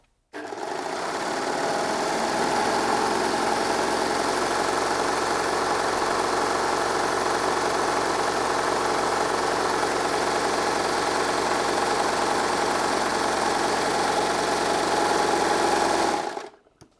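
A Baby Lock Desire 3 overlocker stitches a piece of jersey fabric in a steady, fast mechanical whir that runs for about sixteen seconds, close and loud, then stops abruptly.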